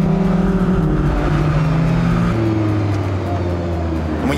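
A Lamborghini Huracán LP 610-4 engine in Corsa mode hums and rises in pitch, then drops to a lower steady drone, loud and close, with faint talking underneath.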